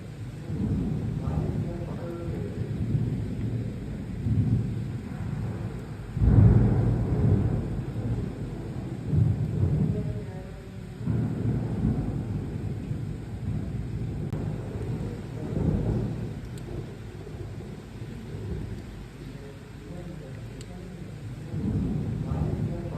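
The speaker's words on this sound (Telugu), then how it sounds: "హైదరాబాద్ అంతటా కూడా పలు ప్రాంతాల్లో ఉరుములు మెరుపులతో కూడిన వర్షాలు భారీగా" Heavy rain over Hyderabad during a thunderstorm. A dense, steady rumble of rain with low thunder swelling and fading several times, heard close and loud for the whole stretch.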